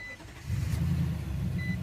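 A Nissan Titan Pro-4X pickup truck engine cranks and catches about halfway through, then settles into a loud, steady low idle rumble close by.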